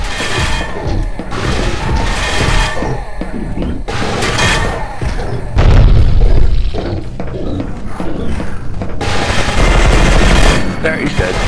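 Bursts of automatic gunfire and weapon blasts from a first-person co-op shooter game, E.Y.E. Divine Cybermancy, loud and dense over a chaotic mix of explosions and creature roars, with players talking over the shooting.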